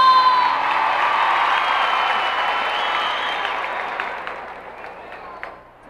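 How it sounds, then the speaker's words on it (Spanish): A concert crowd in a coliseum claps and cheers loudly, with scattered shouts and whoops over a dense wash of applause that slowly fades toward the end. "y el aplauso para ustedes"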